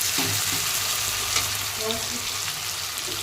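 Meat frying in oil, with a steady sizzle and crackle running throughout at moderate loudness and a few faint scraping touches.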